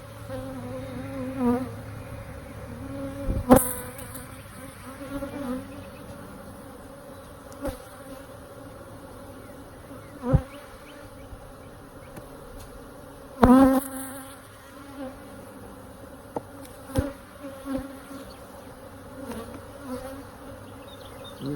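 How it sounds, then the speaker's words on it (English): A swarm of honey bees hums around an open hive, a faint, steady drone that runs throughout. Louder buzzes come as single bees pass near, and occasional sharp knocks and clicks break through. "I'm sure you can hear the humming sound of the bees really picking up."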